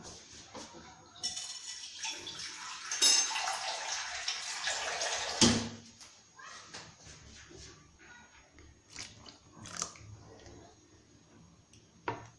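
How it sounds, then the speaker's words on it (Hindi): Water is poured into a pot of cooking horse gram (kulath) dal and stirred, giving a soft splashing rush for a few seconds, then quieter clinks and sloshes of mixing. "मैं इसमें पानी मिक्स करूंगी थोड़ा सा"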